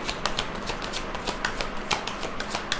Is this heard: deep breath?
no